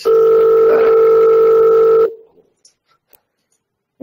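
A mobile phone rings loudly and steadily for about two seconds with a sustained electronic tone, then cuts off abruptly, leaving near silence with a few faint clicks.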